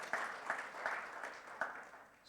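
Church congregation applauding during a Sunday worship service, a soft patter of clapping with a few sharper claps, faint and somewhat distant throughout the brief moment.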